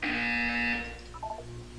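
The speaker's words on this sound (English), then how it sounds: "You will hear a buzzer." A loud buzzer from the Portal 2 video game, one sustained harsh tone lasting under a second, followed by softer electronic beeps and a low hum.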